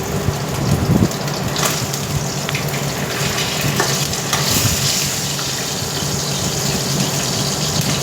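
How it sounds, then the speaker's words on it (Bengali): Catla fish frying in hot oil gives a loud, steady, close sizzle and crackle that runs without a break, with a few brief stirring clatters near the start. "আর একটা মাছ ভাজতে হবে, ওর জন্য আর একটা মাছটা ভেজে নিই।"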